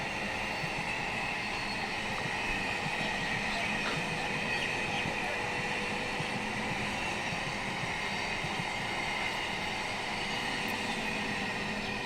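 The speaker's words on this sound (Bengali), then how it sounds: "একটা ট্রেন দেখো।" A passing train beside rice paddy fields makes a continuous loud, broad rumble and roar that holds steady throughout, close by and with no clear voices.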